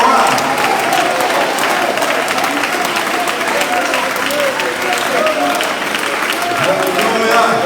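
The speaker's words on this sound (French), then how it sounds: "acclamer le roi des rois." A church congregation applauding, dense continuous clapping that fills the room loudly from start to finish, with voices mixed in among the crowd.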